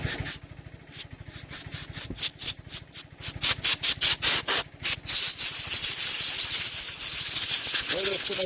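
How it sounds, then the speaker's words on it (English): Compressed air nozzle blasting old fuel and grime out of the carburetor of a 25-year-old V-twin lawn tractor, loud hissing bursts in quick rapid pulses, then one long continuous close blast. "We're just going to blow all this crap off this carb. Blow all that old fuel out."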